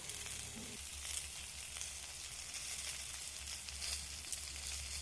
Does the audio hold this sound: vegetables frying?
yes